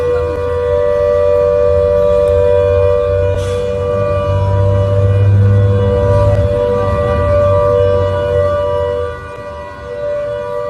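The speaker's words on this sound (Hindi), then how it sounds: "मुंबई में आज एक स्कूल में सायरन टेस्ट किया गया है।" A civil defense siren tested at a school in Mumbai wails steadily for about ten seconds, a sustained loud tone with no speech, fading slightly near the end.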